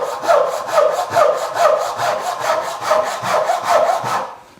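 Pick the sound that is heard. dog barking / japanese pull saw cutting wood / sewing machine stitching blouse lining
japanese pull saw cutting wood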